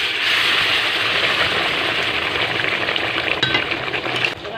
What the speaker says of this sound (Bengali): তেলের মধ্যে এবার তরকারিটা দিয়ে দেবো।